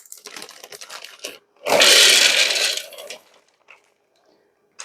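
Peanuts poured into a Ninja blender jar: after some light clatter comes a loud rattling rush of nuts hitting the container for about a second and a half, followed by a few scattered clicks.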